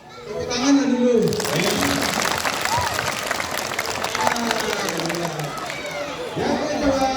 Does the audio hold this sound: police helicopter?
no